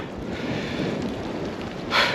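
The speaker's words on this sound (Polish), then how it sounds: "Bo pada, miało padać mniej, pada więcej." Steady autumn rain and drizzle fall outdoors during a rainy family outing, a soft continuous hiss with some wind rumble, growing briefly louder near the end.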